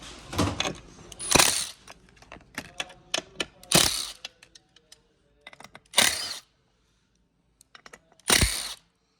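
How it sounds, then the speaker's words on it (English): Sharp, close clicks and ratcheting bursts from a driver loosening T30 Torx screws on an office chair seat mechanism, coming in short separated spurts with quiet gaps between. "And then you got 4 T30 Torx bits that have to come out."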